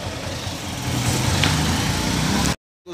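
A 2017 Honda CB Hornet 160R motorcycle engine idles steadily with a low, even rumble during an engine flush, close and alone, before cutting off abruptly near the end.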